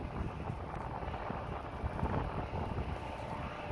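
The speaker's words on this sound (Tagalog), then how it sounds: "Hangin." Wind gusts steadily across an outdoor vegetable garden of moringa and water spinach plants, a constant rushing buffet against the microphone with no pauses and no speech.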